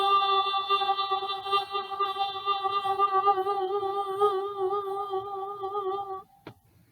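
A wet finger circling the rim of a half-filled glass draws out a steady, pure ringing tone with a slight wavering, held for about six seconds before stopping with a small tap.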